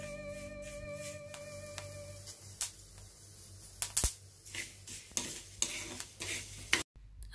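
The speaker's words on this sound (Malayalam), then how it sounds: "മുതിര ഒന്ന് വറുത്തെടുക്കുകയാണ്." Horse gram dry-roasting in a pan gives a busy scraping and rattling of stirred grains, with crisp clicks and pops that grow sharper and more frequent toward the end; no one speaks.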